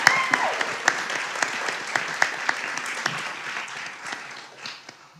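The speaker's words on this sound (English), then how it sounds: "I think y'all need to clap for her." Audience at a teacher town hall event in Birmingham applauding, steady clapping from a sizable crowd that gradually fades toward the end.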